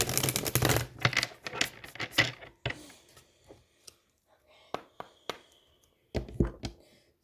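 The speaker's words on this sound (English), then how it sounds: "Sorry if the cards are really loud, guys." Tarot cards being shuffled by hand, a loud dense riffle of close card flicks at first, then scattered softer taps and slaps of cards being handled.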